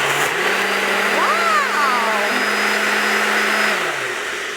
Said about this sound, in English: I'm gonna put this on this blender and hopefully it's not too full.